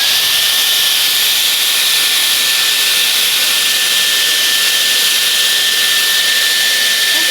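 Dyson Airwrap hair styler blowing air, a loud constant high-pitched rushing whoosh with a thin whine on top, unbroken and close throughout.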